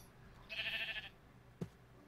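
A sheep in the video game TerraFirmaCraft gives one clear bleat lasting about half a second, followed by a short low thump over quiet background ambience.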